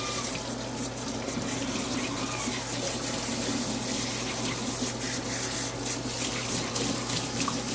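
Running water rinses a Persian kitten during a bath, a steady close splashing and trickling stream with a low pump-like hum underneath, continuous throughout with no talk.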